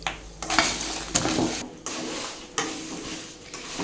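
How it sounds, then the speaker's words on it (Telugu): Dried red chillies and curry leaves fry in oil in a pan, a bright sizzle surging with each stir or scrape of the spoon, close and fairly loud, with no talking. "ఎండిమిర్చి తర్వాత కరివేపాకు వేసుకొని ఫ్రై చేసుకోవాలి"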